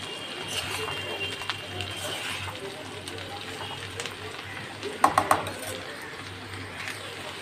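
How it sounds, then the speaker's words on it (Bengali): Snake gourd fries with onions in a pan, a steady soft sizzle running underneath, with a few sharp clatters of stirring near the end while someone talks throughout. "চিচিঙাগুলোর সাথেও তো আবার এগুলোকে ভাজবো ভালো করে"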